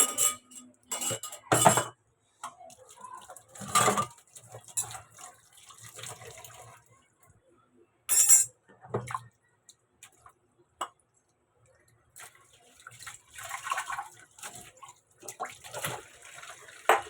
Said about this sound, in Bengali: এখন এটা চলো ধুয়ে নিয়ে আমরা